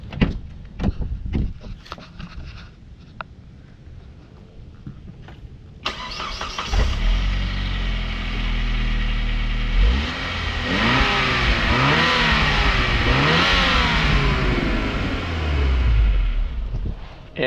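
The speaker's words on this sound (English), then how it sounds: "let's see what happens when you turn the car on" A Saab turbocharged car engine cranks and starts with a sharp rise in level, then revs repeatedly in swelling, falling sweeps, loud and close with no talk.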